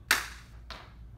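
Two crisp hand claps in a dance routine, a sharp loud one followed about half a second later by a softer one, alone in a quiet room.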